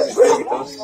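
A dog at the Dejando Huellas animal shelter in Chorrillos gives a short, close yelping bark with a whimpering edge, a single brief burst amid background talk.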